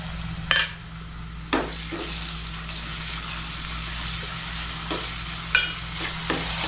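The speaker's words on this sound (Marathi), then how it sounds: "आता त्याच्यामध्ये 1 चमचा आलं लसूणची पेस्ट टाकते." Ginger garlic paste frying with softened tomatoes in a pan for a village-style cashew curry, a moderate close sizzle with a low steady hum beneath and a few distinct spatula scrapes and clinks.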